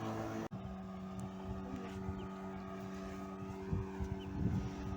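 A fishermen's motorboat on the water near a village, its engine droning steadily at a moderate distance after a brief cut at the start, rising slightly as it passes, with wind in the background.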